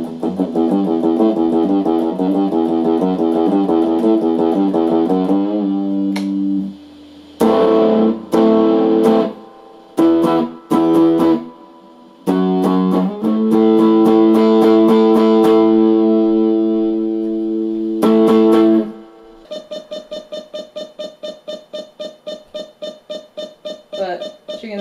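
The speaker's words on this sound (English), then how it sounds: "So I think we're gonna start off with just the regular distortion." Electric guitar runs through an Arduino pedalShield Uno distortion effect, loud and buzzy as sustained chords and riffs alternate with abrupt stops, then a rapid stuttering pulse of repeated notes at the end.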